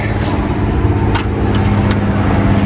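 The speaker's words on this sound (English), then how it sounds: "you do get used to the interstate noise." Constant loud roar of interstate highway traffic on I-80, a dense engine and tire rumble with passing vehicles swelling now and then.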